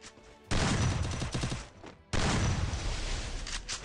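Rapid bursts of gunfire from a double-barrel shotgun in the Free Fire video game, two loud volleys of fast, crackling shots separated by a brief pause, heard alone without talk.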